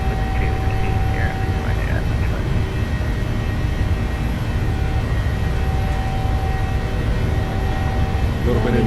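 Boeing 737-800 airliner engines spooling at takeoff power in Microsoft Flight Simulator, a steady loud roar with a constant whine, continuous across the whole stretch.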